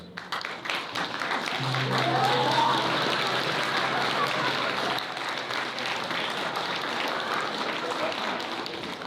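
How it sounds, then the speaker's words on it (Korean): Wedding guests clap for the bride and groom's ceremonial bow, a broad, continuous rush of applause that swells early, then settles and keeps going, with voices and a low sustained tone underneath. "여러분들께서는 두 사람의 맞절 지켜봐 주시고 큰 박수 보내주시기 바랍니다."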